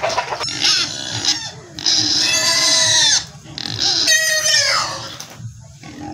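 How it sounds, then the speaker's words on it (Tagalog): Pigs on a farm lot squeal loudly and repeatedly during feeding, long shrill cries in several bursts over a low background of grunting and snuffling, with chickens faintly audible. "sa bidyong ito ay nagpapakain kami ng baboy"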